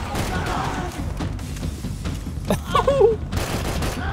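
Machine gun fire in Max Payne 3, a run of fast close bursts under clattering impacts, with a sharp crash partway through and more shooting right after.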